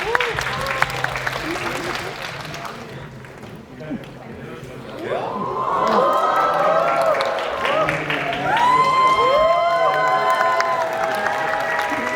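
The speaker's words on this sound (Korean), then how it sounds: "큰 박수 부탁드리겠습니다." A cinema audience at a stage greeting for the Korean film The Roundup: No Way Out in Seoul applauds and cheers, with shrill excited voices swelling over steady clapping, loud and close, amid crowd chatter.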